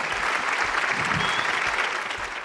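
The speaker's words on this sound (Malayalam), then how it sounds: "നല്ലൊരു കൈയടി" A studio audience on a Malayalam TV comedy show claps warmly, a dense, even burst of applause lasting a couple of seconds, fairly close and without talk over it.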